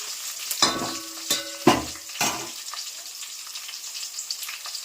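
Sliced eggplant and onions fry in a pan with a continuous close sizzle, punctuated by several sharp stirring scrapes early on.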